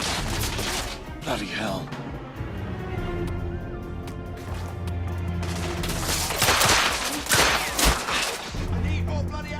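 Gunfire in a PlayStation game: scattered shots and short bursts, punchy and near, growing denser toward the end. A man swears over the shooting, with game music underneath.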